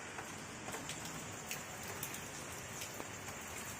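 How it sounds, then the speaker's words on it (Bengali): Rain falls outside in a steady, even hiss of drops hitting surfaces, fairly faint and continuous, with scattered louder patters and no voices. "আর দেখো বাইরে কি সুন্দর বৃষ্টি হচ্ছে, দেখেছো কি সুন্দর বৃষ্টি হচ্ছে।"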